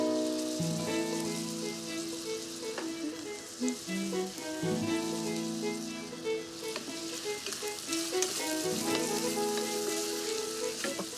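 Diced potatoes with chili flakes and salt fry in a pan as the base for a vegetable stew, a steady, close sizzle with occasional stirring scrapes throughout and no voices.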